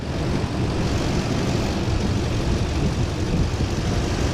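A vehicle engine idles steadily at start-up, its alternator charging the main battery during a dual battery tray install. The low, even engine drone holds for several seconds with no change in rhythm and no one speaking.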